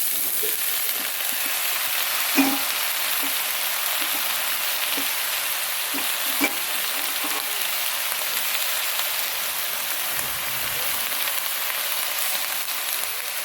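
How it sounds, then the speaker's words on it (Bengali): Cauliflower and mixed vegetables frying together in a pan, a dense, steady sizzle like rain on a surface with occasional knocks and stirring scrapes, close and even in level. "কপি সব সবজিটাই আমি একবারে ঢেলে দিচ্ছি"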